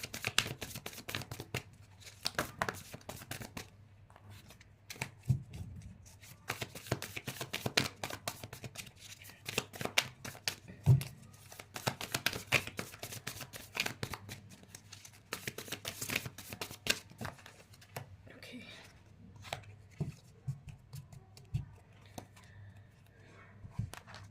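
Tarot cards being shuffled by hand produce soft, steady rustling and riffling flutters that run continuously at low volume, with brief sharper slaps scattered throughout.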